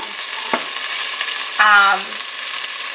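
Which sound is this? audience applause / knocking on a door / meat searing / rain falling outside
meat searing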